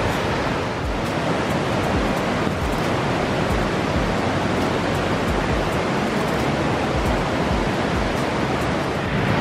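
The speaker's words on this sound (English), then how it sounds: "The river's actually quite loud here at the campsite, but there's a bit of a light rain falling" A loud river rushing beside a campsite on a trail, with light rain falling, makes a dense, steady roar of water that stays loud and unbroken throughout, with no voices.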